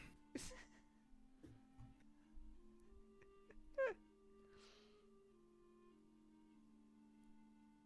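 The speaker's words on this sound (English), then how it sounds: "I'm gonna fucking take care of my cat because he's yelling like a big fat baby" A house cat yells near the microphone in a quiet room, letting out one sharp rising meow amid faint thumps and low background hum.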